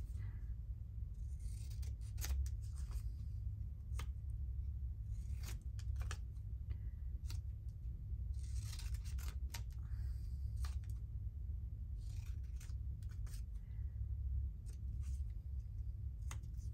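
Scissors trimming paper ephemera in a craft session, a few faint snips and rustles spaced out over a steady low hum.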